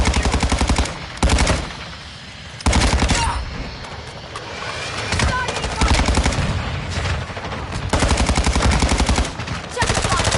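Rapid automatic gunfire rattles through a Call of Duty Modern Warfare 2 multiplayer Domination match on Shipment, loud close bursts separated by short gaps, with faint game voices in between.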